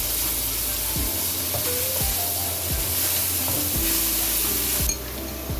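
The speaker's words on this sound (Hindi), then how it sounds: "लहसुन अदरक पेस्ट के साथ अब इसको भून लें।" Garlic ginger paste sizzles and crackles steadily in hot oil with onions for chicken tikka karahi, while a utensil scrapes and stirs the pan every second or so.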